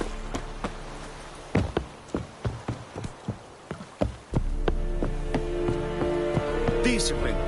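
Roach, the horse in The Witcher 3: Wild Hunt, gallops with a rapid run of distinct hoofbeats that fades into softer steps under music and game ambience.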